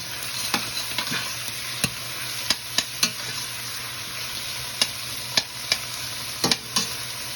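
Food frying in a stovetop pan for saltfish and bake: a steady close sizzle fills the whole stretch, punctuated by sharp irregular pops and spoon-against-pan knocks, with no voices.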